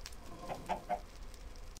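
A Minecraft chicken clucks in the Nether, three short clucks in a row, fairly close and quiet over low background game ambience, with no talking.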